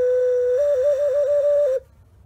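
A human whistle imitates a quail in distress, a single sustained clear tone that wavers rapidly up and down before stopping abruptly, loud and close.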